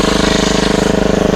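A motorized crop sprayer's small engine runs close and loud, a steady rapid throbbing drone with no pauses or talk.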